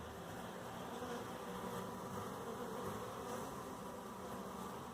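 Honey bees buzz at the hive in a steady, dense drone that is fairly quiet and even throughout, with no voices.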